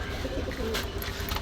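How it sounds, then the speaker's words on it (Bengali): A pair of desi pigeons coos at a pigeon sale in Khulna, soft and low beneath a constant hiss of outdoor background noise, with no one speaking. "দর্শক, এই এক পেয়ার কবুতর আছে, খুব সুন্দর কবুতর, দেশি কবুতর।"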